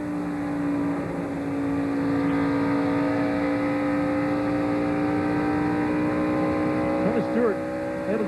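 NASCAR stock cars race at Michigan in the 1999 Pepsi 400, a sustained engine roar from the field with a few quick swooping passes near the end, while a commentator talks over it.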